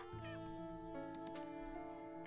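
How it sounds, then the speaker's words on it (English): A cat meows in the Nancy Drew: Secret of the Old Clock video game, a drawn-out tonal call heard faintly over steady game music and background hum. "Cat's making noise again."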